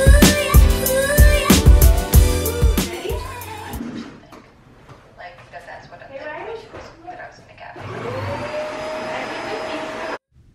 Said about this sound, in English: my little girl Riley has her pink mini vacuum to help me out